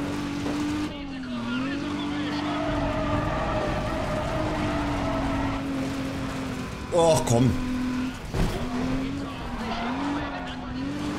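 A car drifts through a race in Need for Speed ProStreet, engine droning steadily with wavering tire squeal and a brief skid burst midway, while someone talks over it.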